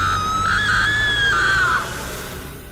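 A woman gives one long, loud scream that rises, holds shrill and high, then breaks off and fades over a low background rumble.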